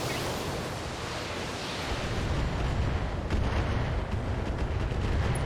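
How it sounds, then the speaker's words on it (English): An LRM missile barrage in the video game BattleTech builds into a continuous, heavy rushing roar of launches and impacts that swells louder toward the end. "we can move up and start raining missiles on it"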